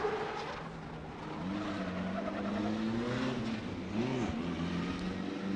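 Formula Drift car on a sighting lap at a 2022 St. Louis round, Ryan Turk's car on Rotiform wheels, engine droning steadily with pitch rising and falling through the corner, a brief higher sweep near the end, under crowd and track ambience.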